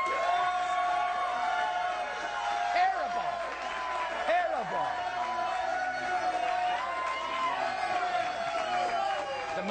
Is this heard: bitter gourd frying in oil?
no